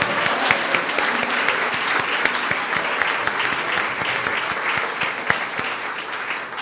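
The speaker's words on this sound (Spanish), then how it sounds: "Un aplauso a la Trinidad." A church congregation applauding at the start of a Mass, dense steady clapping from a large crowd filling the room, loud and continuous without speech.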